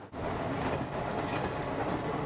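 A train passing at Thrissur railway station, faint and somewhat distant, with a steady rolling rumble and soft clickety-clack of wheels over the rails.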